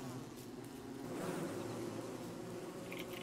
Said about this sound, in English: Killer bees, can you not?